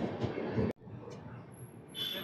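The Tirupati AC Double Decker Express (22707) rolls out of Gudur Junction railway station after a short halt, a steady low rumble of the moving train, with a brief dropout midway and hints of distant voices.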